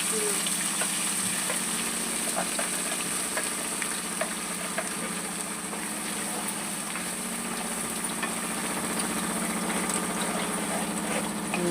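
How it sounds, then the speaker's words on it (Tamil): Masala spices for a fish curry frying in hot oil, a steady close sizzle with crackling pops running unbroken the whole time. "இந்த மசாலாவை எண்ணெயில் போட்டோம்."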